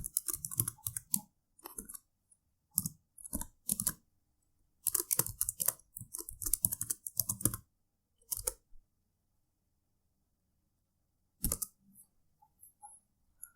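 Code being typed on a computer keyboard, with bursts of quick, close clicking keystrokes separated by pauses and a long quiet gap before one final short burst.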